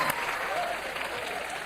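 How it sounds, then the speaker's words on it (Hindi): Studio audience applause fills a comedy talk show set on Kapil Sharma Show, a dense, steady clapping from a large crowd welcoming guests, loud and sustained throughout. "जोरदार तालियां हो जाए यार हमारे मेहमानों के लिए।"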